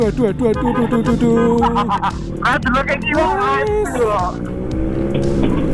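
An MX motorcycle engine droning and shifting pitch close behind while riding, with wind noise and a voice talking over it.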